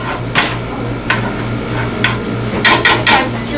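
Onions and salami sauté in a pan under a low, steady sizzle, with several sharp utensil clinks and scrapes near the end.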